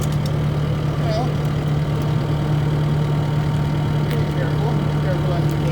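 A parked skid steer idles steadily with a constant low engine hum, close by, while people talk over it.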